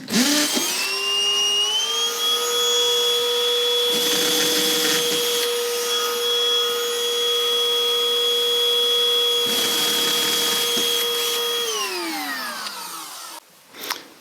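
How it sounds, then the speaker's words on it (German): A vacuum runs steadily, sucking up dust during clock assembly, with a high whining motor tone broken by rougher bursts of suction before it spins down and stops. "Auch hier wieder Staub absaugen."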